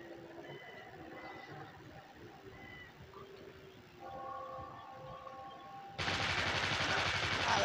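A Scorpion gun fires in the zombie shooter game Dead Trigger: faint game tones play first, then at about six seconds a loud, dense burst of rapid fire starts and runs to the end.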